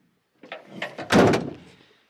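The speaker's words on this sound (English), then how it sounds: "Shut the door." A van door is pushed shut after a stick propping it open is removed, giving a short rattle and then one solid, close slam that rings out briefly.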